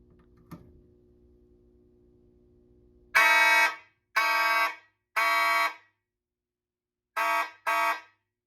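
A Simplex 4002 fire alarm panel sounds loud, harsh signal blasts during a walk test. Three evenly spaced bursts are followed by a pause and then two short blasts, with a faint click and hum beforehand.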